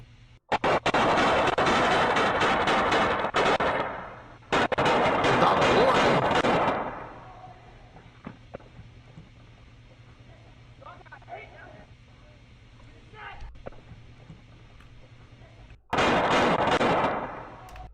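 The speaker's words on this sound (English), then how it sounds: "this is a paintball gun, by the way. They're playing paintball." Paintball guns fire in rapid sustained volleys during an outdoor paintball game, loud dense bursts of shots in long strings separated by quieter stretches with distant pops and faint voices.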